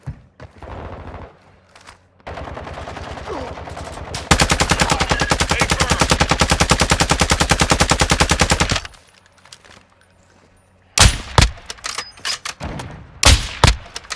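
Gunfire in Call of Duty Warzone DMZ: a long rapid machine-gun burst lasting several seconds, preceded by quieter game sounds and followed by a pause and then sharp, loud single shots at close range.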